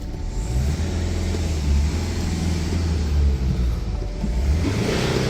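A BMW 420d diesel engine revs after a DPF replacement, a deep low rumble that swells and eases in a couple of rises, heard close with no talking.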